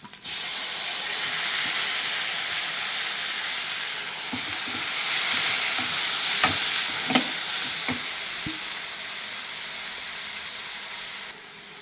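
Boiled radish leaves sizzle steadily in a hot pan, with a constant hiss and several sharp clinks and scrapes from a spatula stirring them partway through.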